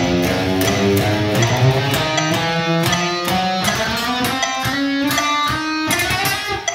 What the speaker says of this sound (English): they sound like they're outrunning the metronome